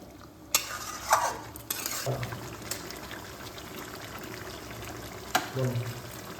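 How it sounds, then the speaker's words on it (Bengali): Salt being stirred into chicken curry in a pan: quiet scraping and wet stirring strokes with a few louder knocks of the spoon against the pan, set against a low background hum. "লবণটাকে এর মধ্যে ভালোভাবে মিশিয়ে নিচ্ছি।"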